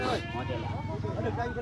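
At a goat market, a goat lets out a short, wavering bleat nearby, with people talking under it.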